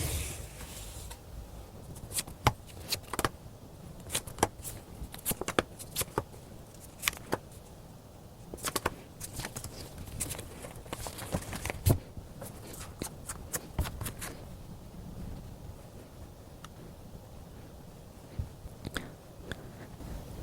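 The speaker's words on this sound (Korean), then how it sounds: "카드로 한번 뽑아보도록 할게요" Tarot cards are shuffled and drawn close up, with a scattered series of crisp flicks, riffles and taps, some in quick bursts and others spaced apart, over a quiet background.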